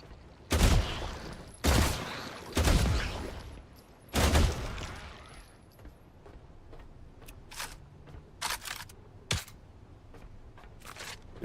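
Video game gunfire with slam ammo, several loud booming shots in uneven succession, followed by quieter, sharper clicks and pops.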